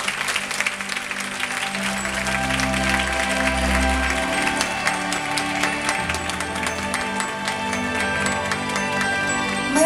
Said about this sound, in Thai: สุดท้ายซัมมี่ขอเสียงปรบมือให้กับ3คนสุดท้ายในค่ำคืนนี้